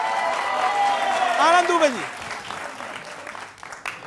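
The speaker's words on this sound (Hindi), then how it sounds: "तालियों के साथ स्वागत करिए भाई" A studio audience on a televised political debate show claps to welcome Anand Dubey. Dense applause plays under someone speaking loudly, with a brief sung or drawn-out vocal sweep midway before the clapping thins out.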